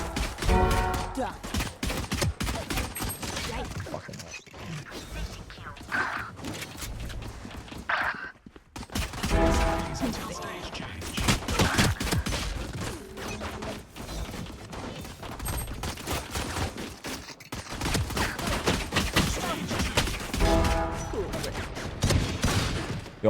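Rapid bursts of gunfire from a competitive shooter video game crackle in near-continuous volleys, with short lulls between exchanges and voices talking over the action.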